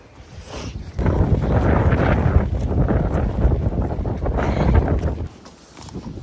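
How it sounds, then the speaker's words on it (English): Strong wind gusts roar across the microphone in a Welsh pony yard, buffeting loudly for several seconds before easing off, with faint clopping in the background. "the wind is picking up now"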